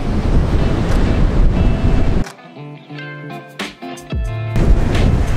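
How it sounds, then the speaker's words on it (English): Loud wind buffeting the microphone in rough gusts near the shore, dropping away briefly mid-clip before the blustery roar returns. "It's a tad bit windy"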